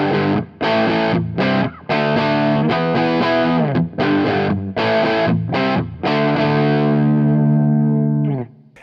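Distorted electric guitar through the low input of a Marshall SV20H amp, with chords strummed in short bursts and brief gaps, then a final chord ringing out and fading; no talk.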